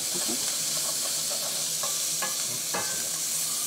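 Onions, shallots and lardons fry in a pan with a steady, close sizzle and hiss, broken by a few brief scrapes and clacks as a utensil stirs them.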